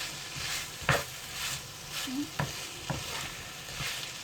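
Spaghetti and chicken stir-frying in a pan, with a steady background sizzle broken by a few sharp scrapes and clinks of a utensil stirring, close and moderately loud.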